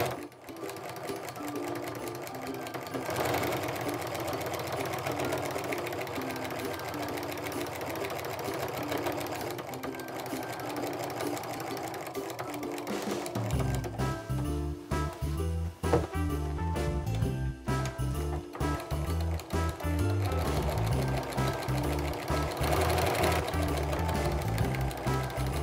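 A sewing machine stitches cross-hatched lines across a small quilted snowflake mug rug, a steady continuous whirring hum that grows fuller and louder about halfway through and runs alone without any talking.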